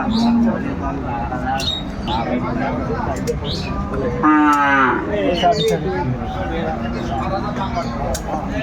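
Cows and calves lowing at a busy village cattle market, several moos rising over constant crowd chatter and people talking nearby, one long close moo standing out midway.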